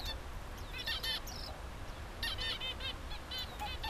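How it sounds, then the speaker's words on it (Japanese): A small flock of red-billed Java sparrows chirps in bursts, clusters of thin, high, nasal calls repeating quickly at close range over steady outdoor rumble. "これ、文鳥ってやつですかね、このくちばし赤いやつとか。"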